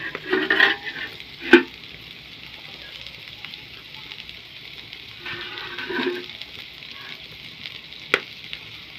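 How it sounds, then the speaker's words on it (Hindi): Bitter gourd (karela) pieces fry in ghee with a soft, steady sizzle broken by a few sharp stirring clatters and spatters, fairly quiet overall. "उसके बाद अब इसमें डाल दिए करेले ताकि अच्छे से फ्राई हो जाएं।"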